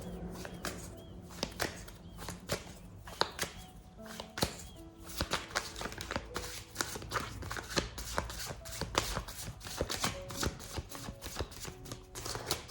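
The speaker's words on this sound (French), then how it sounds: "je rebrasse les cartes" Tarot cards are shuffled by hand in quick, crisp riffles and slaps, repeated bursts of papery clicks and flutters close to the microphone, fairly soft overall.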